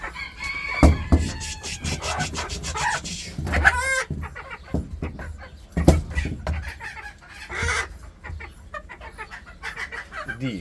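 A rooster and four hens, kept for sale, cluck and chatter close by. Several clucks and squawks come in irregular bursts, with a crow-like call near the start.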